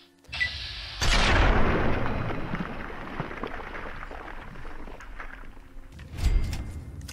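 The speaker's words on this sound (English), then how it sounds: "Just a random missile" A missile detonates with a sudden heavy boom in Fallout 3, followed by a long rumbling decay. A second, smaller thump lands near the end.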